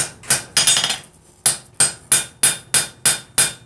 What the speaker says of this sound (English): This is very light forging.